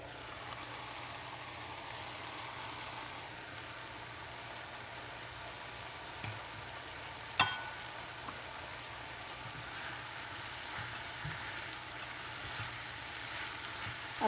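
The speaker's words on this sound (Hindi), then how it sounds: "ये देखो, इसको अच्छी तरह से जोश आ गया।" Spicy masala corn with sweet potatoes bubbles in a covered pot, a low, steady simmering hiss with a few small pops and one sharp knock, heard alone without talking.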